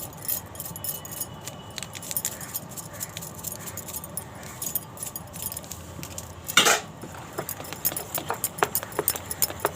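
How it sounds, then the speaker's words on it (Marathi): A whisk clinks and taps rapidly against a bowl while beating masoor (lentil) dosa batter mixed with Eno, lemon, garlic, chillies and salt. The strokes are steady and fairly close, with one louder clatter midway and no talking. "चांगलं फेटून घेते आहे."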